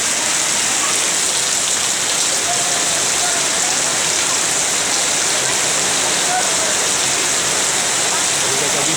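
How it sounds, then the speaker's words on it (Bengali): Heavy rain pours steadily in Gazipur, a dense, loud hiss of drops drumming on surfaces that continues without a break. "আমাদের গাজীপুরে পর্যাপ্ত পরিমাণ বৃষ্টি হচ্ছে"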